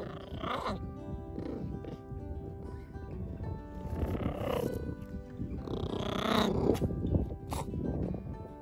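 A harp seal's low, rumbling purr-like vocalization drones on steadily, rising and falling in waves with a few higher tonal cries layered over it.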